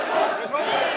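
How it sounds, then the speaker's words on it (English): At an arm wrestling match, the crowd shouts and roars as one dense, continuous wall of voices, loud and close throughout the brief moment. "I hope you can hear the crowd at home."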